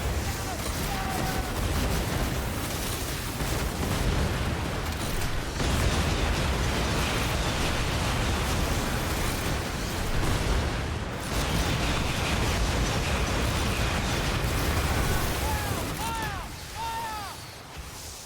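Dense, continuous crackle and bursts of firework explosions in the game Skull and Bones, loud and unbroken, with a few whistling rising tones near the end.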